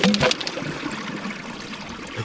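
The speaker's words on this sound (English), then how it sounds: "Oh, that's a lot of water." Water gushes briefly from a pipe into an old watercress bed, a short splashing trickle that fades quickly, with no talking.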